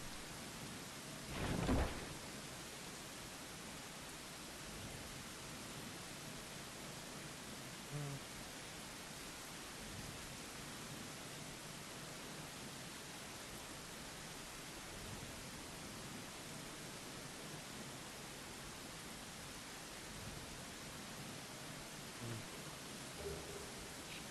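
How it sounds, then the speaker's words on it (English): Steady rain falling in the dark fantasy video game Dark Souls 2, a constant soft hiss of rainfall heard alone throughout, with one brief louder thud early on. "Out of the rain!"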